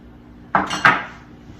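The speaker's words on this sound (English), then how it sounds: "we're going to put all the dry ingredients in one bowl" Two quick clinks of dry baking ingredients going into a kitchen bowl, a bright hard knock followed by a second louder one, close and otherwise quiet.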